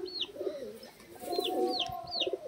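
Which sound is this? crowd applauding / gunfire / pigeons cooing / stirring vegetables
pigeons cooing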